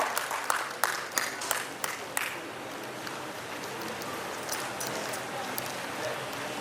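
Audience applause at a ceremony honouring a guest of honor, a broad wash of clapping that starts with a few sharp claps and settles into steady, moderately distant applause filling the room.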